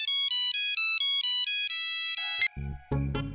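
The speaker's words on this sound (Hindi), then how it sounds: "फोन बज रहा है मेरा" A mobile phone ringtone plays a repeating bright electronic melody in steady pulses, then cuts off as other sounds and a voice come in.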